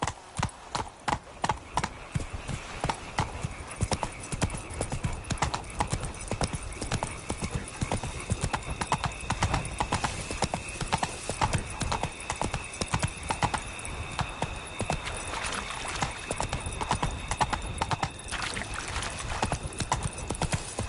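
Roach the horse galloping in The Witcher 3 video game, rapid rhythmic hoofbeats pounding close and loud for the whole stretch, with a faint whinny and a voice briefly speaking over it.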